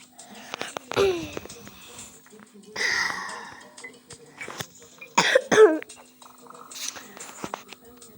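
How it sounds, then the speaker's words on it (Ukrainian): Several harsh coughs come in short bursts, close by, separated by quiet pauses and a faint steady hum. "Вибачте, за те, що багато кашлюю."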